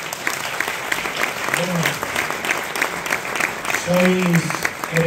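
An audience at a peñas gala claps for award winners, steady applause running throughout with voices talking over it, one speaker near the mic.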